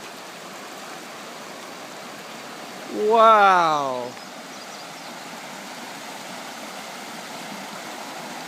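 Fresh waterfall that appeared overnight, fed by an overflowing roadside ditch and pouring down a mountainside near a house construction site; a steady, close rushing of water fills the whole stretch, with one brief exclaiming voice partway through.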